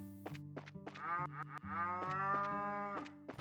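Cattle mooing in the video game Trails in the Sky SC, several long, loud lowing calls in close succession with harmonic tones, heard alone.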